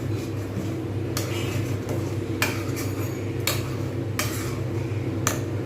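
Ghee stirred into a potato and paneer curry in a pan, a spoon clinking against the metal pan about six times at uneven intervals over a steady low simmering hiss.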